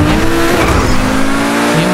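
A McLaren in GTA V drives hard with a steady engine drone and a tire squeal layered over it, loud and close throughout with no voices.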